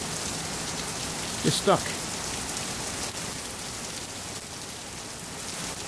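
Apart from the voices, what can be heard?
rain falling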